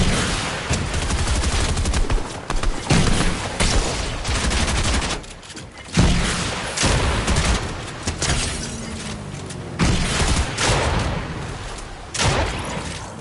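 Dense bursts of Fortnite gunfire, rapid automatic fire and repeated shots crackling loud and close for the whole stretch, with brief pauses between volleys and no talk.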